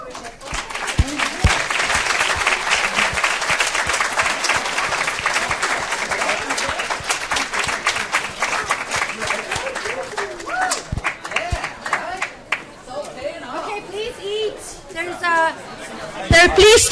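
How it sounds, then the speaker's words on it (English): A large audience at a business strategy and data science case competition claps loudly and steadily for participants, with chatter and cheering mixed in; the applause thins out and breaks up toward the end. "So please give them a huge applause when I give them the gift."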